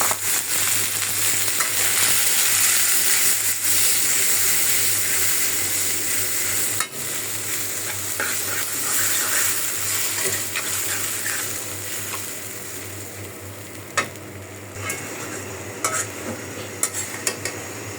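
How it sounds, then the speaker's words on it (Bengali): Prawns fry with spices in a pan while being stirred, a loud close sizzle with scraping stir sounds that eases off slightly toward the end, with a few sharp clinks. "সব মশলা দিয়ে চিংড়ি মাছটা ভালো করে কষায় নিই।"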